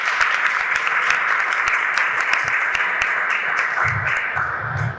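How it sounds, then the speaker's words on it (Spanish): An audience in a classroom gives a round of applause, a dense burst of many hands clapping that holds steady and then begins to thin out near the end, with a few low voice sounds underneath. "Un aplauso."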